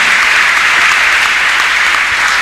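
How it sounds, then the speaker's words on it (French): A church congregation claps loudly for Jesus Christ, a dense and steady wash of many hands that fills the whole moment without pause. "Can you clap for Jesus Christ?"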